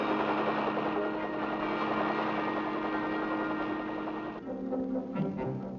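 A steady, droning engine roar with a throbbing rotor beat from a swarm of military helicopters holds throughout, loud and continuous, shifting slightly in tone near the end.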